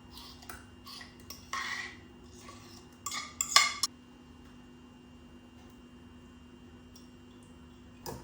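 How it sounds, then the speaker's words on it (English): Banana bread batter is whisked in a bowl until smooth. The metal whisk makes quick clinking, scraping bursts against the bowl, loudest in the middle, before a long quiet stretch with a faint background hum. "And just whisk it until smooth"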